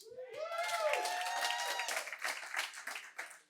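Applause and cheering from a conference audience in a room: a raised whooping voice at first, then scattered clapping that builds and fades out near the end.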